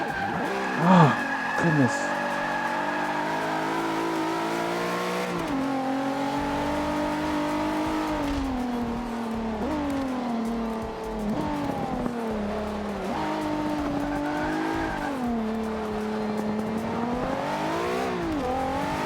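A 1000-horsepower Infiniti Q50 driven in Forza Motorsport 5 holds a loud, steady engine note that rises and falls with throttle, and tires squeal as it slides, while someone talks briefly.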